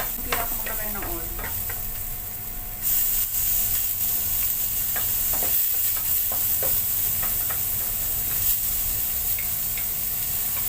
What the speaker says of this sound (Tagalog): Igisin na natin ang kanyang mga ingredients